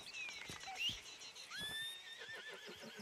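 A horse in the video game Red Dead Redemption 2 neighs and whinnies in a few rising and falling calls, close and clear over quiet ambience.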